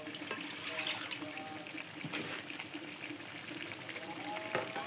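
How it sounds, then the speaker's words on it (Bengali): A little water pours from a bottle into a pan of fish and cauliflower curry, making a soft, steady trickling gush that stays faint throughout. "অল্প পরিমাণে পানি দিয়ে দিলাম।"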